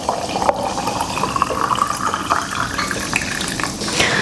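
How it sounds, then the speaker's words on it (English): Water is poured into jars of black beans, a continuous close trickle and splash with a rising filling tone, steady and unaccompanied by talk. "we're gonna go ahead and just top each jar with water"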